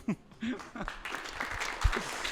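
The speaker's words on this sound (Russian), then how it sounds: "А можете хлопать. Хлопайте." An audience gives a short burst of clapping, with several voices talking over it.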